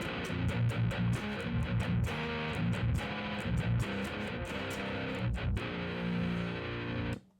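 An electric guitar runs through a Kemper profiler's pitch shifter set six semitones down, giving a thick, low, distorted chord passage with steady strums that fill the clip before cutting off abruptly at the end.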